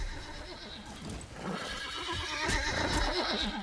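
Horses neigh and whinny repeatedly in the Valheim video game, several rising calls overlapping at close range with hoof clip-clop underneath, set against a steady game ambience.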